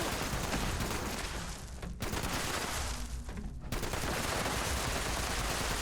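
Sustained gunfire rattles through a fight in Fallout 76 inside a nuclear silo, dense loud bursts that break off briefly twice before resuming.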